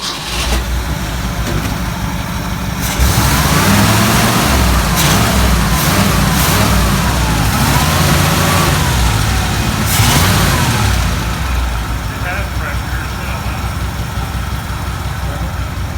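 A 1971 Ford found in a barn, parked for 34 years, idles with a rough, loud engine, then is revved several times in rising and falling swells before settling back to idle.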